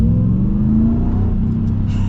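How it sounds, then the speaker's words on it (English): A 2024 Ram TRX with a supercharged V8 revs loud and close, its deep steady rumble carrying a sustained high whine from the supercharger across about two seconds. "the supercharger whine that you get with this"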